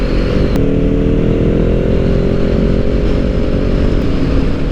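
Kawasaki Ninja 400 parallel-twin engine with an aftermarket exhaust pipe idles and runs steadily up close, a loud, continuous buzzing drone with a brief blip near the start and no voices.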